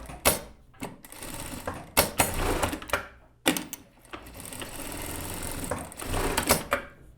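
A sewing machine runs tight, short-stitch seams on loose-weave fabric for a Chanel-style jacket, starting and stopping in several bursts of rapid mechanical clatter with brief pauses between.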